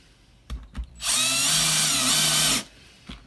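A power drill drives a screw into a metal paint can lid in one sustained whirring burst of about a second and a half, close and loud, framed by a couple of brief handling knocks before and after.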